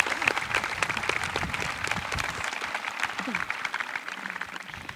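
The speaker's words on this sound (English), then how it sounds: "Please join me in a round of applause for Amber Frederick." Applause from the audience at a high school graduation ceremony, a dense patter of many hands clapping that runs steadily and slowly thins toward the end, with a faint voice underneath.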